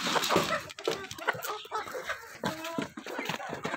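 Backyard chickens, including a Rhode Island Red and a Chinese chicken, cluck in a series of short, close calls with some farmyard background noise.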